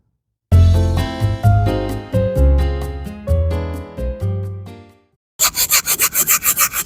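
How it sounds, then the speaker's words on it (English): A very soft brush scrubs dried paint off a window screen in a series of squeaky, rubbing strokes, then a quicker run of short rhythmic scrubbing bursts after a pause. "I'm scrubbing with the brush again."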